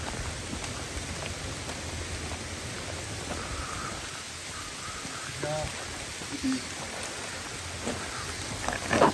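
Steady rain falls at night on an ultramarathon trail, a constant hiss of drops with occasional louder spatters close by.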